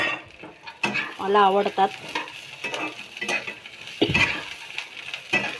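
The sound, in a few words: roasting green chilies, peanuts and garlic in a pan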